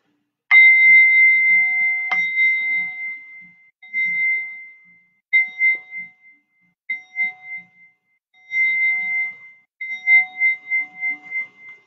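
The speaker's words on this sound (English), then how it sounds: "I will play the bells just to close down our chakras" Meditation bells closing a session ring out with clear, sustained metallic tones, struck several times at spaced intervals, each ringing on and fading, with no talking.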